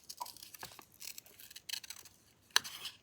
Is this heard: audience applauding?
no